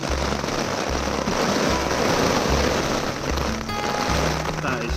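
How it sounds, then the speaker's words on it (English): Heavy rain drumming steadily and loudly on a tent while wild camping by Black Beck Tarn near Haystacks in the Lake District, a dense continuous patter with low buffeting thumps. "Can you hear that rain?"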